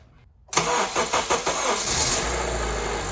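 Honda CR-V engine, a vehicle being checked for a VTEC pressure switch fault code, cranks and fires up loudly after a brief quiet moment, then settles into a steady close-up idle.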